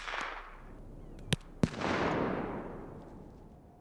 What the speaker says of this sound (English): Loud explosive devices can be fired from specialized launchers or 12-gauge shotguns from